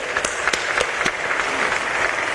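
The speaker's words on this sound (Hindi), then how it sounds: "एक बार इन सब के लिए ताली बजाओ।" An audience claps inside Pandit Deendayal Auditorium, a dense, even wash of applause with a few sharper, nearer claps standing out over the first second.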